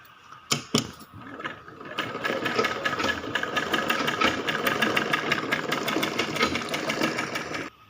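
A sewing machine runs steadily while stitching the folded hem of baby shorts, a fast, even mechanical whirr with rhythmic needle clatter that starts after a couple of sharp knocks and continues close up.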